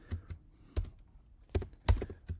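A few separate keystrokes tap on a computer keyboard as code is entered, sparse and close with short pauses between them.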